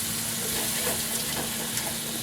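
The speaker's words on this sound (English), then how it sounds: "I'm going to stir this around." Onions and other ingredients stirred in a hot pan, lifting the browned fond off the bottom: a steady, close sizzling hiss with faint scraping, continuous and even throughout with no talk.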